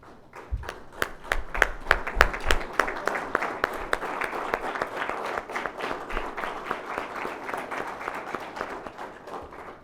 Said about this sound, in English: I request all of you to stand up and give a big round of applause to the entire team who have organized here.